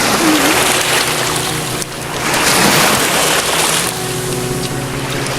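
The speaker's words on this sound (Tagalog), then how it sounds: "dito kami sa tabing dagat" Steady rushing surf and wind at a beach resort shore in Batangas, Philippines, continuous and fairly loud, with a low engine-like rumble underneath.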